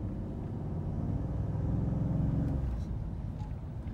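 A 2017 Ford F-150 Lariat with the second-generation 3.5-liter turbocharged engine and 3.55 gears accelerates on a little throttle, giving a low, steady rumble that swells through the middle and eases off near the end.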